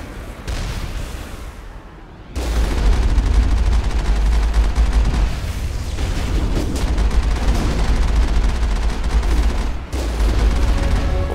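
A Geth heavy turret in the video game Mass Effect fires in sustained, dense bursts of heavy, booming gunfire, loud and continuous apart from two brief pauses.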